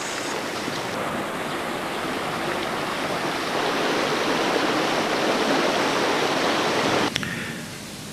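The River Arth rushes through its deep valley near Cardigan Bay: a loud, close, continuous wash of flowing water that ends with a sharp click and then dips slightly, with no talk.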